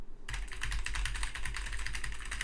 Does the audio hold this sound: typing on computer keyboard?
yes